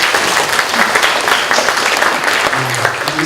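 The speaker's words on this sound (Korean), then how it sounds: "우리 수고하시는 우리 선생님들께 박수 한번 부탁드리겠습니다" Applause from a church congregation during a Sunday worship service, a dense steady patter of many hands clapping throughout, fairly loud and with no talk over it.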